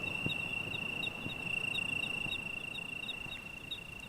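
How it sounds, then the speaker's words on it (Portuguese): Crickets in Portugal sing outdoors: a steady, continuous high trill runs throughout, overlaid by a second, regularly pulsed chirping in repeated short bursts, moderately close over a low rustling background with no voices. "Reconhecem este cri-cri?"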